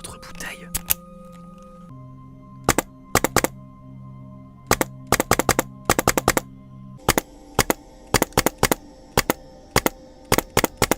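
A VFC XCR airsoft rifle fitted with a Reaper HPA kit firing in quick bursts and single shots, each a sharp, crisp pneumatic crack, close and loud over a faint hum, with quiet murmured voices at the start.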